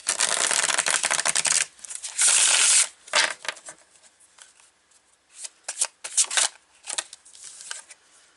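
Hands shuffle an Earthly Souls and Spirits Moon oracle card deck close up, with rapid riffling bursts and soft card flicks separated by short quiet gaps.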